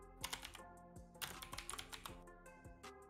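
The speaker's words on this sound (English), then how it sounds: "I don't have loud clicky keys like that" Rapid clicky computer keyboard typing, loud and close, with bursts of sharp keystrokes and a brief flurry in the middle, no voices.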